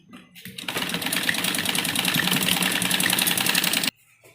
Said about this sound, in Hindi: और यहाँ पर इस तरह से करते हुए बीच से सिलाई कर देंगे।